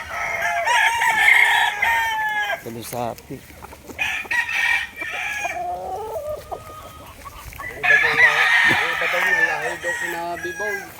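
Gamecock roosters on a small backyard farm in Ternate crow loudly and repeatedly nearby, their long calls overlapping with clucking fowl, while someone speaks briefly in between.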